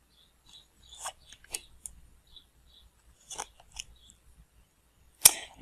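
Tarot cards being shuffled and drawn close up: quiet papery flicks, slides and snaps spaced irregularly, with a sharper card slap near the end, over a near-silent background.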